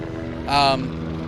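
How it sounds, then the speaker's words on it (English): A helicopter passes overhead with a loud, swelling rotor roar that peaks briefly and fades, heard over steady background noise at a nighttime protest scene at UCLA. "We can't talk over a helicopter."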